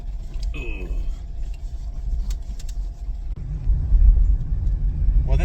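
A car crawls slowly over rough bush ground strewn with tree stumps near Donovans on the Glenelg River, giving a steady low engine rumble with bumps, scrapes and knocks from underneath, loud and close.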